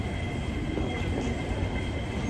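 A train in Hong Kong rolls along its rails with a steady, loud, continuous rumble and rush. The sound holds evenly throughout, with no voices over it.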